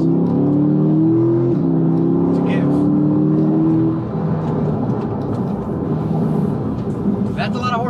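A 2020 Chevrolet C8 Corvette with about 495 horsepower accelerates hard, its engine note climbing steadily in pitch before settling into a loud, sustained roar with road noise; a voice talks over part of it.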